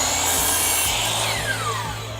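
A power saw makes a trim cut across the end of a green-painted wooden board, a steady loud whine and rasp through the wood from start to finish.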